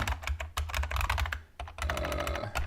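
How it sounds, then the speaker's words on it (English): Rapid clattering keystrokes on a loud computer keyboard, close up, in quick irregular bursts with a brief pause in the middle. "Oh, I'm back onto my loud keyboard."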